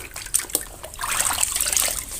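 Water splashes as exfoliating gloves are wetted for an at-home pedicure, a few sharp splashes followed by a soft, continuous trickle and slosh at close range, with no talking.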